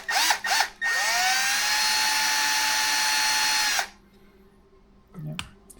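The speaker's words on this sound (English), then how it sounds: "The old Milwaukee brush drill" Two short bursts of an old Milwaukee brushed power drill, then a sustained high whine for about three seconds before it cuts off, followed by quieter shuffling.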